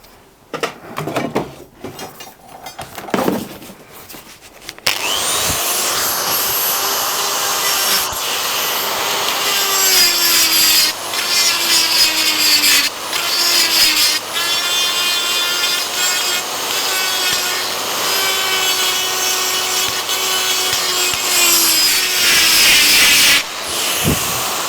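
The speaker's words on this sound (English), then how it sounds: "careful. Die grinder work." A die grinder working on a cast iron cylinder block, a loud sustained high whine with shifting pitch as the bit bites into the metal, close and continuous after a few short scraping sounds at the start.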